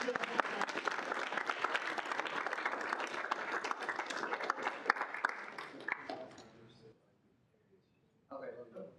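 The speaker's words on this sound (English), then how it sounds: "Now you get the official applause." Sustained applause from a group at a student senate meeting, dense clapping that fades out around six seconds and gives way to near silence, then a brief burst of voices.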